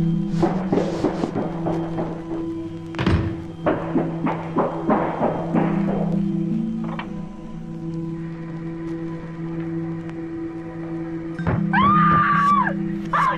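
A woman screams in a played-back recording within a Korean audio drama. Scattered thumps and clatter come first, then a loud wavering scream near the end over a steady hum.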